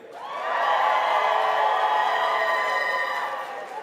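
A large convention audience cheers and whoops together, a broad sustained roar that swells, holds for a few seconds and then tapers off.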